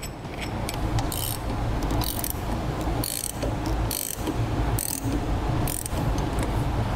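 Clamp for a TruXedo TruXport soft roll-up tonneau cover being ratcheted tight on the bed rail of a 2007 Chevrolet truck, giving repeated rhythmic clicking bursts over a steady mechanical rumble, close and loud, with no voices.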